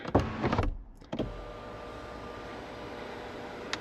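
Electric sunshade beneath the glass roof of a Jaecoo 8 SUV sliding open, a short motor whir preceded by a couple of clicks and thumps, then a quiet steady cabin hiss.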